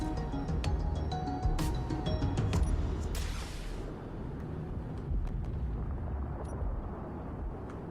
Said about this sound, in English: Got the new noise for explosions is pretty good.